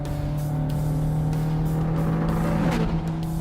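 Ferrari California sports car driving, its engine a steady, loud drone throughout, with a rising growl building toward the end as it pushes on; no talking.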